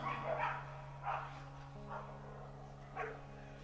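During a Hindu sermon, a dog barks and whimpers in several short yelps spaced about a second apart, fairly distant and faint against a steady electrical hum.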